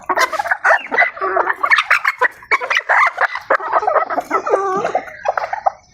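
Quails squabble and are handled back into their cage, with a dense burst of loud, close chattering bird calls and squawks running without a break throughout.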